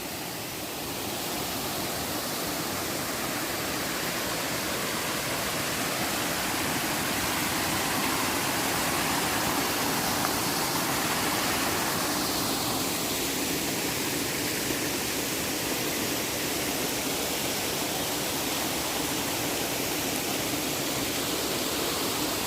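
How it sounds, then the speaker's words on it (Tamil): Kattar waterfall in a forest in the Veerappan forest region, a steady, dense roar of falling water that stays loud and unbroken throughout, with no voices. "இருந்த காட்டில் இப்படி ஒரு அருவி இருக்குதா?"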